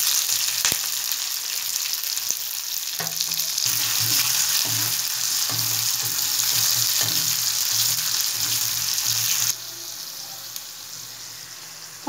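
Onion, mustard seeds and curry leaves fry in oil in a kadai, a loud, steady sizzle with repeated scraping stirs that drops to a quieter hiss near the end.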